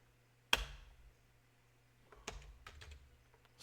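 A computer keyboard being typed on in a quiet room: one sharp key strike first, then after a pause a short burst of several quick, close keystrokes.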